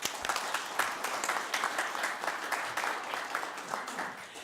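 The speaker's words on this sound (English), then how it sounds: "let's give them a round of applause" Audience at a Farmington State of the City event applauds public officials, a steady crackle of many hands clapping for several seconds at moderate volume, with no voices over it.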